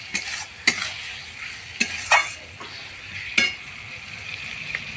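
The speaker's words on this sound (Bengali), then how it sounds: "আবার একটু নেড়ে নেব আমি।" Chicken with sour yogurt stirred in a pan, a soft continuous sizzle punctuated by a few sharp scrapes and taps of a spoon against the pan, close by.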